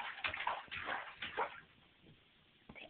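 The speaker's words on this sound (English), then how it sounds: "Are you splashing?" Young child splashing in bathwater, with bursts of sloshing and slapping water that come in uneven clusters and then ease off, close by in a small bathroom.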